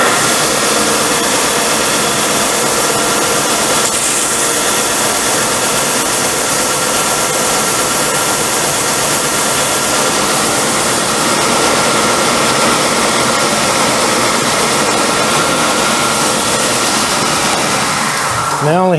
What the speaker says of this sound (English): So I got my sander over here.